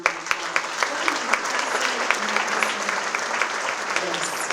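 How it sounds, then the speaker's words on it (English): Audience applause rings out at the Young Floridian Award ceremony for honored guests, a steady wash of many clapping hands with a few sharper claps popping through, holding level for several seconds. "So give them all a round of applause."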